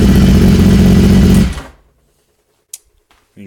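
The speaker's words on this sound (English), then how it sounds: "Bike sounds pretty good." An Aprilia Tuono motorcycle engine idling after start-up makes a loud, rumbling, throbbing drone for about a second and a half, then cuts off, leaving near silence with a couple of faint clicks.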